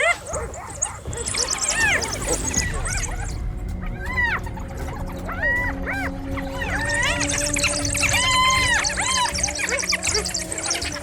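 African wild dogs give repeated high whimpering and yipping calls, several at a time, over a rumbling background as hyenas close in on the pack in the wild.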